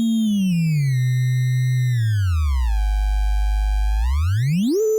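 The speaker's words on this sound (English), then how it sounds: "note what happens to the ringing tone when we change the pitch of the sine wave oscillator" Synthesizer ringing tone hard-synced to a sine wave oscillator, a steady buzzy harmonic tone alone that glides down in pitch, holds low, then sweeps back up sharply near the end.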